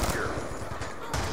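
A SWAT rifle in Black Ops 2 fires a quick string of close, punchy shots in a Domination match, with a voice briefly audible beneath.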